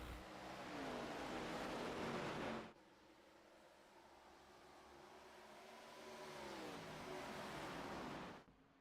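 Race cars charge off turn 4 at Dover after the green flag: a loud engine roar that suddenly drops away, then a quieter rising, swelling pack of engines that builds and cuts off.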